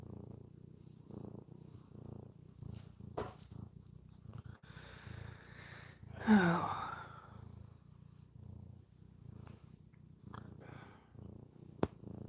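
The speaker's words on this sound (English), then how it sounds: "She's purring away." Steady, low cat purring rumbles close by in breathy pulses, with a brief voiced exclamation and a few small clicks partway through.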